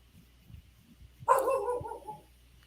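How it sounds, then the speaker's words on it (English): Husky mix dog letting out a single short howl-like yelp, rising suddenly and fading over about a second, heard indoors after soft faint thumps. "I'm surprised she doesn't howl more since she's got so much husky in her."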